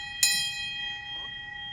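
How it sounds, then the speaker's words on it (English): A hand bell rung at a hospital cancer center to mark the end of treatment: one sharp clang that rings on with a long, clear tone decaying slowly in a quiet room. "if you ring the bell, it's all over."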